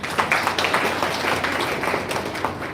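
An audience at a pharmacy college conference claps in a round of applause to welcome a speaker, a steady patter of many hands with a few sharper individual claps standing out.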